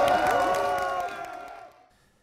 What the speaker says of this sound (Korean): 여러분, 박수 주십시오.